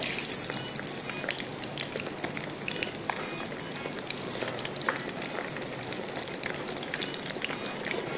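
Pieces of boneless boti sizzling as they deep-fry in hot oil, a steady dense crackle and hiss with scattered sharp pops, close and continuous with no talking.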